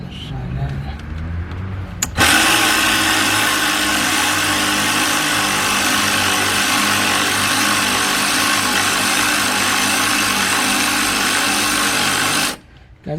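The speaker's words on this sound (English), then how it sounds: "This goes to show you just how important it is to get you one of these cordless ratchets" A cordless ratchet whirs continuously for about ten seconds, loud and close, as it removes oil pan bolts on a 2005 Cadillac CTS 3.6 with a knocking engine, then stops abruptly.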